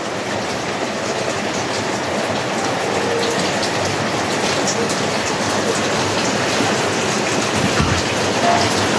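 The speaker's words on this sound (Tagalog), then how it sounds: "Kahapon pa, malakas ang ulan." Heavy rain pours down in a constant dense hiss, loud and unbroken throughout, with no one speaking.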